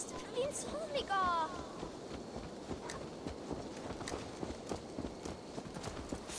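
In the game Assassin's Creed Valhalla, a horse's hooves thud in a steady walking rhythm under low ambient noise, with a brief voice speaking at the start.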